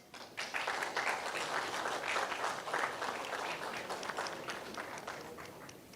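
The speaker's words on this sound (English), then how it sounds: "A big round of applause." An audience at a foundation's launch event gives steady, dense applause that lasts about five seconds at an even level, heard from a moderate distance in a hall, with no clear speech.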